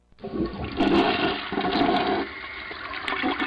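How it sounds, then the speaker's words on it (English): Simulated toilet flush in a gaming context, with a loud, steady rushing gush of water that surges and then tapers slightly, heard alone without talking. "It can even simulate a toilet flushing."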